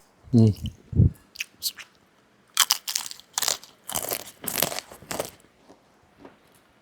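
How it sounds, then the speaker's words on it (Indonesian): Chocolate-coated pisang tanduk banana chips from Makassar crunched between the teeth: a couple of low, chunky bites, then a run of crisp, bright crunching bursts close to the mic, with no talk over it. "Masih kriuk. Jadi memang ini keripik pisang enak."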